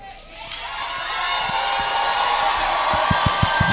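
A church congregation shouting and cheering during a sermon, a loud, sustained roar of many voices swelling and holding, with scattered claps and whoops near the end.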